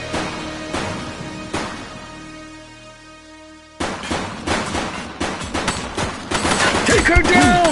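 Gunfire in the police action game The Precinct: rapid bursts of shots over game music, a quieter lull midway, then denser, louder volleys near the end with voices talking over the action.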